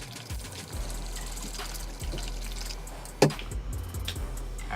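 Hot water and oil sloshing inside a spray bottle capped with a finger, shaken in quick bursts with a wet, squishy churn and one sharper knock near the end, fairly faint and close.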